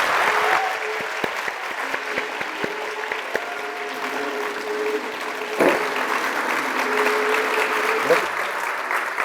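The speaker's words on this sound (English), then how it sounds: "please give a round of applause for Ron" Audience applause at a chamber of commerce gathering, steady mid-level clapping throughout with some tonal sounds and brief voices mixed in underneath.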